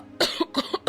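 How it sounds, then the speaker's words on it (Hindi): A man in a Hindi audio drama unable to control his coughing, giving three sharp, close coughs in quick succession, each with a short rough tail, and no speech over them. "वो अपनी खांसी पर काबू नहीं कर पाता और खांसने लग जाता है"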